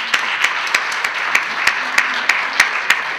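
A small audience claps steadily for two young singers after the national anthem, a brief, moderately loud round of applause with individual claps standing out.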